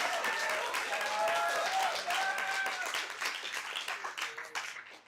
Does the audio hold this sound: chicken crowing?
no